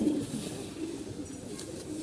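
Pigeons, high-flying banded birds kept by a fancier, coo in a soft, low, continuous murmur that stays fairly faint throughout.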